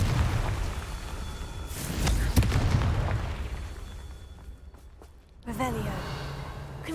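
Confringo fire spell cast in Hogwarts Legacy, a sharp close burst followed by a rumbling explosion, amid ongoing game noise with a voice calling out the spell.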